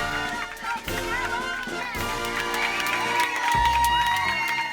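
A crowd cheers and claps for passengers stepping off a plane, a steady roar of voices and whoops carrying through music and talk.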